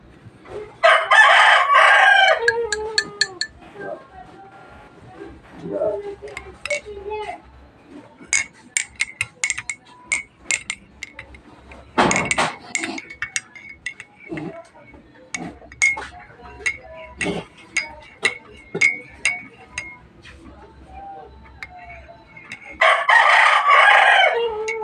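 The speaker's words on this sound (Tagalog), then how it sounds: "Pasensya na ang ingay ng manok." Chickens are near at hand, with a rooster crowing loudly at the start and again at the end. Between the crows come scattered sharp clucks and clinks, and now and then a faint voice.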